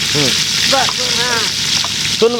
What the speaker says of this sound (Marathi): कांदा टोमॅटो सोडला तिथे चांगला तळू द्यायचा